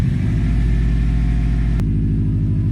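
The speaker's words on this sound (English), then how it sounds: "It's definitely idling a bit high right now" A built Subaru GC8 RSTI engine idles high and close by, a steady, even drone with a deep rumbling pulse and one brief click partway through.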